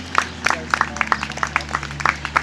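Scattered clapping from a small audience at a dressage show, sparse individual claps in an irregular rhythm over a low steady hum.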